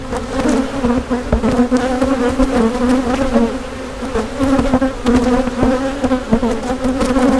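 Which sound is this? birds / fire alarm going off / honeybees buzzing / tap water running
honeybees buzzing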